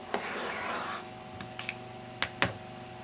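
Rotary cutter slicing fabric strips along a quilting ruler for a cleanup cut, a soft close rasping drag followed by a few light taps and clicks in a quiet room.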